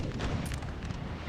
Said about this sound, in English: Yeah, lots of artillery going on there.